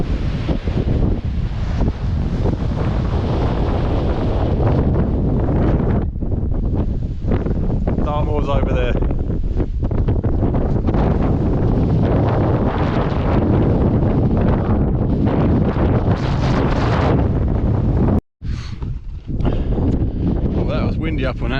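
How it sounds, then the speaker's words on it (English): Strong wind roars across the summit of a tor on Bodmin Moor, buffeting the microphone loudly and continuously with gusts, while someone speaks over it. "that was blowing a hoolie"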